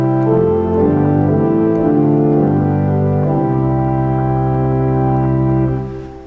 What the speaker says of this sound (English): front row over here on the right is an open diapason